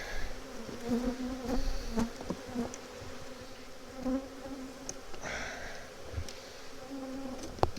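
Honey bees buzz around an opened hive during a colony inspection before splits. A soft, steady drone of many wings carries on throughout, with occasional louder passes near the ear and no talk.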